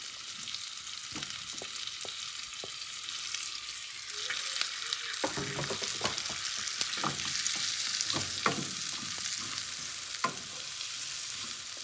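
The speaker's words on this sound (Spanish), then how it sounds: "lo que yo quiero es que sude la cebolla y se caramelice" Onion sweating in melting butter in a pan over low to medium heat, a steady soft sizzle with scattered pops and crackles that grows slightly denser, close and quiet, with no talking.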